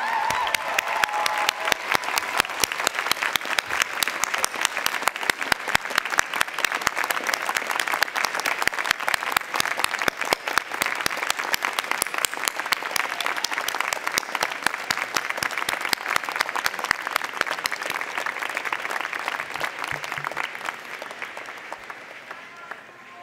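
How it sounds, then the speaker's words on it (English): Large audience at a university graduation ceremony claps in sustained, dense applause for about twenty seconds, loud and even before tapering off at the end. "show your support and appreciation for everything your parents, family, and friends have done to support you in this journey by giving them a big"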